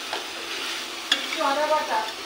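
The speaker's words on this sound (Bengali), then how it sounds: "এখন এটা ভুনা করো, ভুনা করো" Small shrimp frying with onion and green chili on an induction cooktop, a steady close sizzle with one sharp utensil tap midway and some stirring noise after it.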